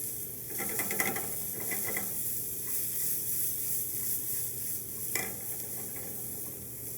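Vegetables caramelize in a pan over high heat with a steady, moderate sizzle, broken by a few clattering stirs and scrapes near the start and once more later.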